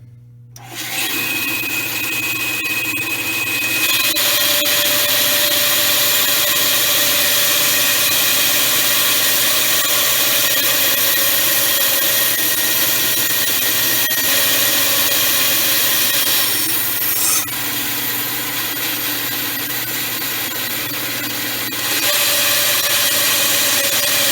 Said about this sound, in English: let's just do the bandsaw part first and stay a little bit wide of the line